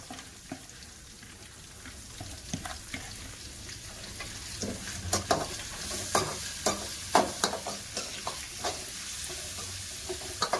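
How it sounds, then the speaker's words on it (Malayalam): Chopped big onions frying and being stirred in a pan, with a steady close sizzle under scattered scraping and clinking of the spatula that grows busier toward the end. "പിന്നെ ഇത്രയും ഉള്ളി അരിഞ്ഞ് വെച്ചിട്ടുണ്ട്. സവാളയാണിത്, ഒരു 2 വലിയ സവാള ഉണ്ടായിരുന്നു, അതും കൂടി ഇട്ട് കൊടുക്കാം"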